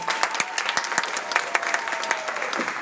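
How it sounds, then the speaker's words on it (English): Audience at a Leadership Memphis induction ceremony applauds guests, a steady patter of many hands clapping fairly close with no talk over it. "Give our guests an applause."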